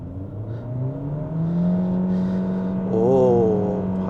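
A Proton eMas 7 PHEV plug-in hybrid accelerates, heard from inside the cabin as a steady rising drive hum with a brief surge of tone near the end, fairly close and continuous with no talk.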